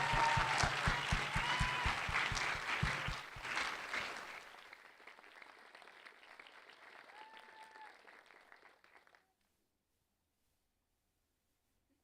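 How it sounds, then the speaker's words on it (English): Audience applause at a university research awards ceremony, a steady dense wash of many hands clapping that thins out and fades to silence partway through. "another giant round of applause."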